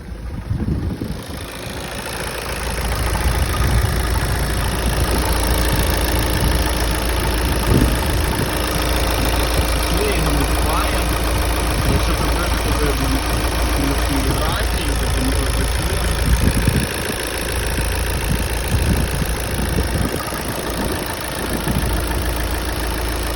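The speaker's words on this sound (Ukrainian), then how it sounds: "послухаємо як працює мотор." A car engine idles steadily and fairly loudly for a long stretch, a constant mechanical hum with slight knocking texture.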